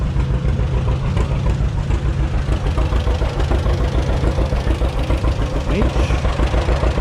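An old gas tractor, a Farmall M, idles at a tractor show in Mid Michigan, its engine chugging in a steady low rhythmic knock close to the microphone, with people talking nearby.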